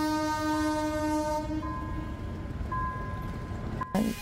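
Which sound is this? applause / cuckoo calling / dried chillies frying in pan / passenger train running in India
passenger train running in India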